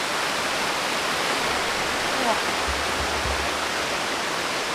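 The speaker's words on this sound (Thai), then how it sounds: "เป็นน้ำตกแบบนี้นะทุกคนนะ" A steady, dense rush of a forest waterfall roars continuously without a break, loud and close throughout.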